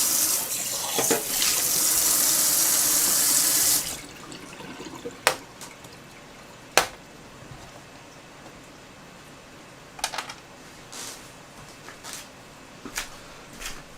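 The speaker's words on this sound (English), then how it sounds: "you can hear noises off as I just wash up" Washing up at a sink, with a tap running loudly for the first few seconds, then turned off, followed by scattered clinks, drips and small splashes nearby.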